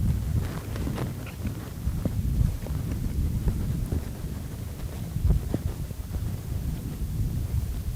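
Wind gusts blowing outdoors across a microphone while cinnamon is sprinkled over an apple cinnamon raisin pizza rollup, a steady low rumble with occasional buffets and no talking.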